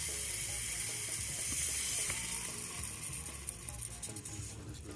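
Water poured into a hot biryani pot of chicken at an outdoor riverside camp, a continuous splashing rush over a faint sizzle, fairly close.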